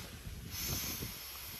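Air escaping from the relief valve nozzle of an inflatable rapid raft makes a steady, faint broadband hiss, swelling slightly midway and continuing evenly with no talk over it.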